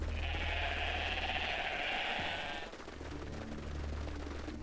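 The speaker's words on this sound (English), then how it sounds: "The sheep will continue living." Sheep in the video game Everything bleat in a loud, sustained, wavering call for a few seconds, then fade into a low background hum.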